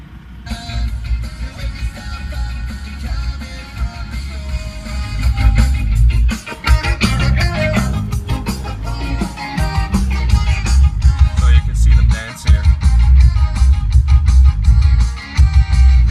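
Music pounds through the subwoofers installed in a Honda CR-V, with heavy, boomy bass under busy mids and highs, loud and continuous for about sixteen seconds with brief dips.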